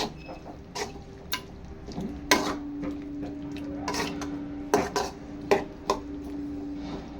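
A spoon stirs chili powder and coriander powder into a liver curry in a pot, giving scattered metallic clinks and scrapes at an irregular rhythm over a low background hum.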